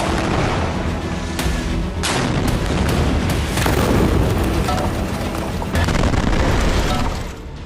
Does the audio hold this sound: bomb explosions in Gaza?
yes